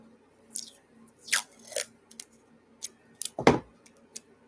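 Packing tape pulled and pressed onto a package for a Christmas Etsy order, heard as several short, close ripping and crackling bursts with pauses between them and a firmer thump near the end.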